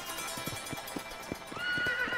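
Horse hooves clip-clop in a steady rhythm in the Western video game Red Dead Redemption, ending in a loud, drawn-out whinny near the close of the short clip.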